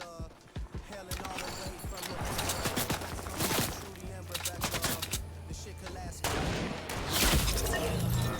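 Gunfire in a shooter video game, repeated sharp shots and bursts of fire, with a sniper shot among them, loud and close throughout, with a voice talking over part of it.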